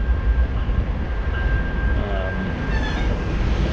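A train passes near Target Field, giving a continuous rumbling roll of wheels on track. Faint steady whines and squeals from the rails sit above the rumble, and no one talks.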